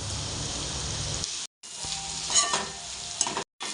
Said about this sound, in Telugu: పచ్చిమిరపకాయలు వేపేసుకుందాం ఫస్ట్ దోరగా. ఉల్లిపాయలు కూడా వేసేసుకుందామండి.